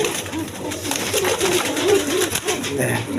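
Large pigeons at a pigeon sale coo in steady, overlapping low throaty calls close by, with a constant murmur of background noise throughout.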